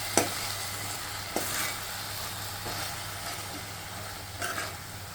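Tomato curry mixture with salt, chilli powder and coriander powder being stirred in a pan, a constant low sizzle punctuated by a few distinct spoon scrapes against the pan, close and with no voices.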